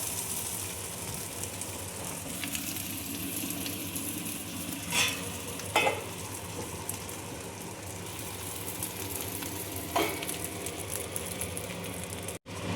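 Fish wrapped in banana leaf fries in an oiled pan over high flame, giving a continuous close sizzle with a few brief scraping or handling noises and no speech.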